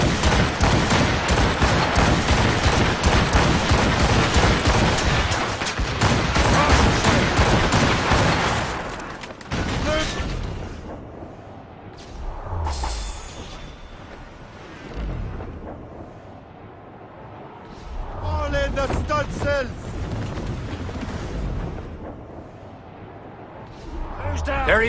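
Ship cannons firing in Assassin's Creed Rogue: dense, rapid barrage of loud booming blasts for the first nine seconds, then scattered heavier explosions and rumbling with shouted voices and game dialogue over the battle.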